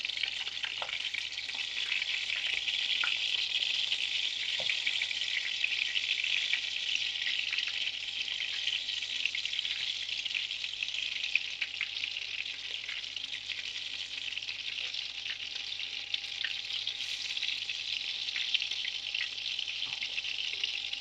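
Steady, crackling sizzle of marbled meat patties frying in a hot pan, continuous and close, with no talking.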